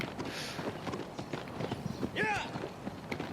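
Galloping horse hooves in Shadow of the Colossus on PS4: a steady, fast clip-clop rhythm runs the whole way through, with a brief warbling cry near the middle and faint voice sounds underneath.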